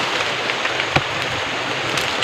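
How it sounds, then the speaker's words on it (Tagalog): Steady rain falling outdoors, a dense continuous hiss of drops with occasional louder patters close by, with no voices over it. "So, ulan pa gyud."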